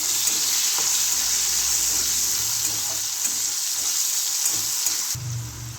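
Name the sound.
sautéing tomato with salt in a pan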